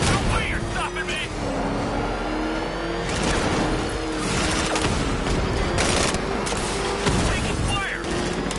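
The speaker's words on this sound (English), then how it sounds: "Taking enemy fire." Enemy gunfire crackles in a Batman video game as repeated sharp bursts and booms over a dense, rumbling battle din, while voices talk over the action.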